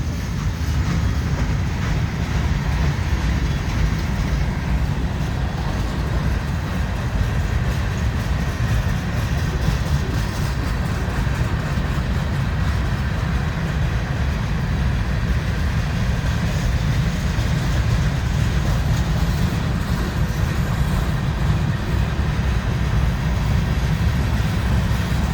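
A very long freight train rolls past at a night train meet in Wartrace, Tennessee, a steady loud low rumble and wheel roar that stays constant for the whole stretch with no pauses.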